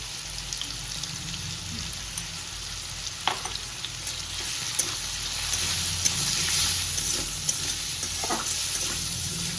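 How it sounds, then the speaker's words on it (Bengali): Potatoes fry in hot oil with a continuous crackling sizzle, close and even, with occasional stirring clicks and no talk. "তেল গরম হয়েছে, আলুগুলো দিয়ে দিই"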